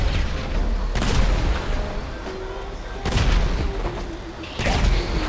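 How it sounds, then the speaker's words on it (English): Explosions from a bomb in GTA 5 Vehicle Vendetta: several loud, broad booms about two seconds apart over continuous game noise, with a voice mixed in. "Oh, I hit that bomb."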